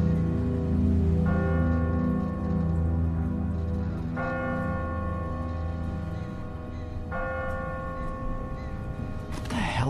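A church bell tolls in the video game The Walking Dead, striking three or four slow, evenly spaced times about three seconds apart. Each resonant strike lingers over a steady rumbling background.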